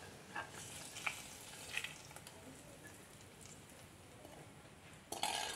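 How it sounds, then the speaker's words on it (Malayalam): Tempering of shallots, curry leaves and three dried chilies poured into a jackfruit seed and dried prawn curry: a few faint clinks and soft crackles, then a sudden loud sizzling burst near the end. "താളിച്ച് നമുക്ക് ഈ കറിയിലേക്ക് ഒഴിച്ചു കൊടുക്കാം."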